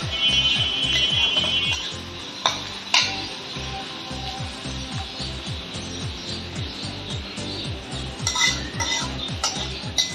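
Onion for an egg korma being stirred in a pan, with a steady rhythmic scraping of a utensil against metal repeating throughout and occasional louder clinks, close and clear with no talk.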